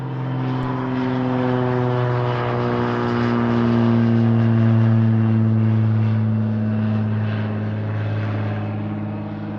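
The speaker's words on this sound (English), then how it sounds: "that was a float plane. It had floats on it, not wheels." A float plane with a propeller engine flies overhead, its steady droning hum swelling as it passes close and then slowly fading, with no talk over it.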